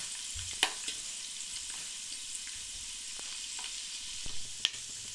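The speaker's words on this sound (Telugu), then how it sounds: "అల్లం ముక్కలు కూడా బాగా వేగనిద్దాము." Ginger pieces fry in hot oil while upma is being made, giving a soft, continuous sizzle with a few small scattered pops and no voices.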